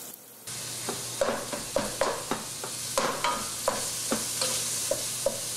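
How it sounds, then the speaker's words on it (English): Meat, onions and mushrooms frying in olive oil over medium-high heat, with a steady close sizzle and a string of sharp utensil scrapes and stirring knocks against the pan, no voices. "And then I will add the onions and mushrooms. I'm going to get that going."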